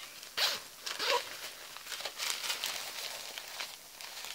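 A zipper on a Dooney & Bourke handbag is worked in short, faint rasping pulls, a few quick zips close by with soft handling rustle between them.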